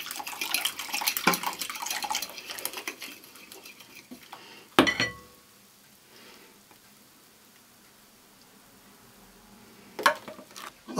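An egg-lemon mixture is whisked into flour and water in a bowl for a Greek goat avgolemono dish. Busy clinking and scraping open the stretch, then a sharp clatter, a long quiet gap and another burst of metal-on-bowl knocks.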